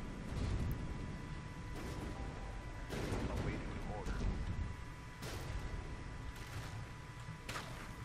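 The Jupiter warship's guns in From The Depths fire in a string of sharp, booming blasts spaced a second or two apart, each with a rumbling tail, set against a faint continuous background hum.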